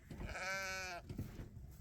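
A sheep on a farm gives one loud, drawn-out bleat close by, about a second long, followed by fainter bleats and shuffling as the flock is moved.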